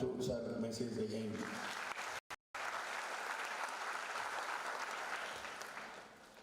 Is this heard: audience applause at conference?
yes